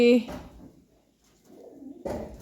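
Pigeons coo softly in short bursts, with quiet pauses between the low, throaty calls.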